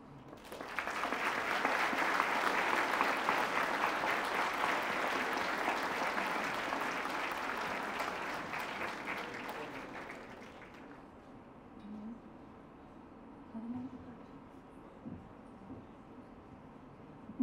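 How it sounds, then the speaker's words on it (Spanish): Conference audience in a hall applauding loudly and steadily for about ten seconds at an arts and humanities congress, then fading to scattered claps and faint murmurs. "Demos un fuerte aplauso nuevamente, por favor."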